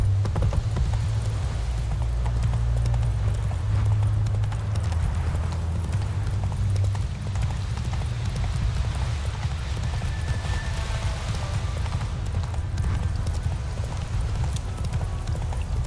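Roach the horse gallops in The Witcher 3 video game, with steady rhythmic clip-clop hoofbeats over a low rumbling background that lasts the whole stretch.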